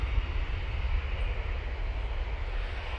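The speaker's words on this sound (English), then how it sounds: "Nice, Easyjet is going off to Lisbon" easyJet airliner departing Manchester Airport for Lisbon, a steady low jet-engine rumble heard from a distance, even and unbroken, with no voices.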